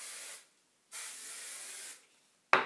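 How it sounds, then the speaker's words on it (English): Hairspray is sprayed onto teased hair in two close, hissing bursts, the first short and the second about a second long, followed by a sharp click or tap at the end. "And I push like this before I spray."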